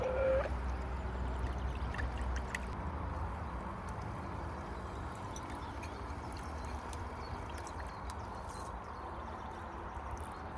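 Water runs into a Dometic sink as dishes are rinsed in a small vehicle galley. The flow is steady and close, with light clinks and splashes early on and no talk.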